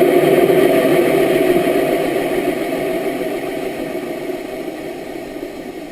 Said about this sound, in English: the sound of the engine starts to diminish